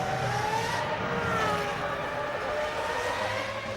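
A Formula One car from the 2001 Brazilian Grand Prix accelerates up the start-finish straight, its engine a continuous loud, high whine with shifting pitch that holds steady and close throughout.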